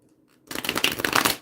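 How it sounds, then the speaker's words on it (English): A tarot card deck is shuffled up close, a quick burst of crisp riffling card flicks after a moment of near silence. "shuffle and pick the 5th card from mini mega deck"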